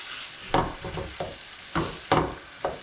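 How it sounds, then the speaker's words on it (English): Short bursts of sizzling and crackling from patties being pressed in a hot frying pan, flaring up several times in irregular pulses over a quieter background hiss. "You want to hear that sizzle?"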